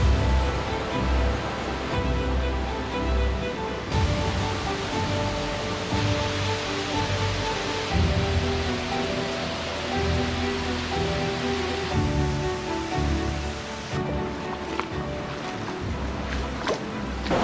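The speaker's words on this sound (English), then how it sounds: "Another waterfall." A waterfall on a wet Australian mountain track gives a steady, broadband rush of falling water that stays loud and unbroken throughout, with no voices.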